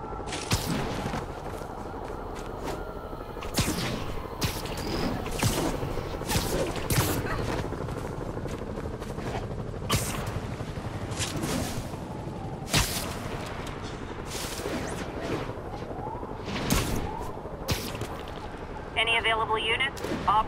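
Sniper gunfire in the game Marvel's Spider-Man, a string of sharp, loud shots at irregular intervals over a busy background of action sounds, with voices talking throughout.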